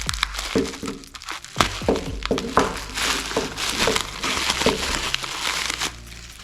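Plastic packaging around Dakota Digital motorcycle gauges being cut and torn open up close: sharp cracks, crinkling and crunching snaps in an irregular series, loud and nearby, with no talking.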